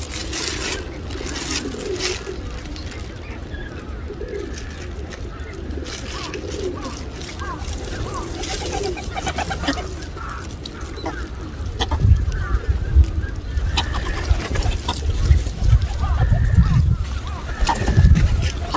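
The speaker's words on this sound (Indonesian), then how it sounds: "kita bisa mengasih makan burung guys" Park birds, pigeons and geese, are fed bread. Their honks and coos run steadily beneath talk and a busy outdoor ambience, with louder low rumbles toward the end.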